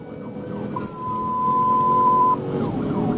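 A police car's steady electronic siren tone holds for a couple of seconds over the low rumble of the moving vehicle in a pursuit, fairly loud and near.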